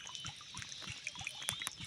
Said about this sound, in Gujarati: આમાં 2 માત્રા દવા નાખી છે, બીજું પાણી નાખ્યું છે